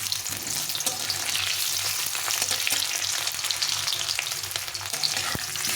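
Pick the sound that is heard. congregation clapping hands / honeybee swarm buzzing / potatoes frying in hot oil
potatoes frying in hot oil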